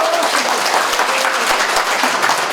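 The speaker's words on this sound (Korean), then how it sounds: "여러분 박수 격려 박수" Steady applause from an audience at a Seoul mayor's lecture event, welcoming a lawmaker; dense, even clapping fills the whole stretch at close range with a few low thumps.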